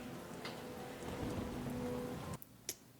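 Rain falling in a dark night scene of the TV drama Torchwood, a soft steady patter under faint low tones that cuts out abruptly near the end, followed by a couple of sharp clicks.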